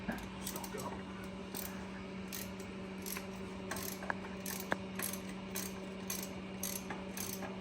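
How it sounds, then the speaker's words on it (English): Ratchet clicking in repeated bursts while a bolt is removed from a Yamaha XT 600 motor, close and fairly quiet over a steady hum, with a couple of sharp metallic taps. "So we're pulling the bottom bolt out."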